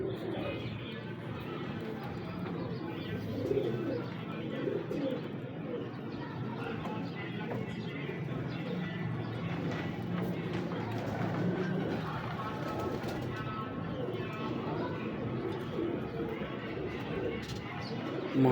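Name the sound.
pigeons cooing, pure Sebe male pigeon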